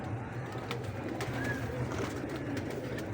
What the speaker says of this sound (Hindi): कबूतर है जी, ये देखें।